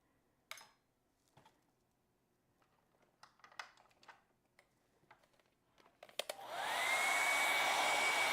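A hair dryer dries wet acrylic paint on a painting. It follows a few soft, scattered taps, then starts abruptly and blows loudly and steadily close by until the end.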